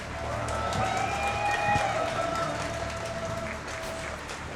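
A live crowd at a StarCraft esports tournament cheers and applauds in a sustained wash of noise, with a few whistles rising over the din.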